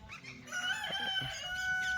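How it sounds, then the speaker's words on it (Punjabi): A black Kadaknath rooster crows at a mini zoo and deer safari, a strained harmonic call of about two seconds heard at moderate distance over faint background noise, without talking. "ਮੁਰਗਾ ਕੜਕਨਾਥ ਮੁਰਗਾ ਖੜਾ"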